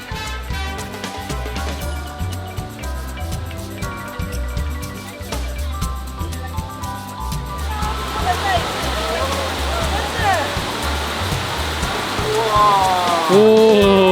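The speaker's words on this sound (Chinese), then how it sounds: "可以在这座被森林拥抱的瀑布玩水" A forest waterfall in Siquijor, Philippines, swollen and muddy after days of heavy rain, gives a continuous rushing roar that grows louder toward the end, under music and people talking.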